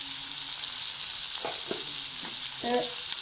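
Beef fry sizzles steadily in a pan, a close, even hiss broken by a few soft clinks and scrapes as it is stirred.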